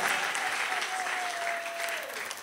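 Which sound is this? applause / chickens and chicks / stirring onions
applause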